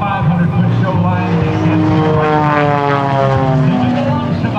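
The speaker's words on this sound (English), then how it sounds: "You get a chance to see the airplane tumble like these highly agile composite aircraft are able to do." A propeller-driven composite aerobatic airplane performs at the 2012 Blue Angels Homecoming Airshow, its engine a loud, sustained drone whose pitch slides steadily up and down as it tumbles and maneuvers.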